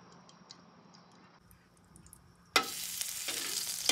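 Oil for cooking pasta in a pan bursts into a loud, steady sizzle after a couple of seconds of faint ticking and quiet kitchen background.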